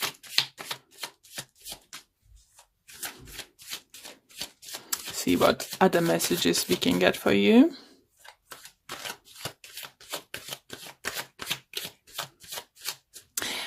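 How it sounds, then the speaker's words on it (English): Tarot cards being shuffled and pulled by hand, a soft rapid riffling burst in the middle with light card taps scattered around it, heard under a person talking throughout. "let's pull a few additional cards"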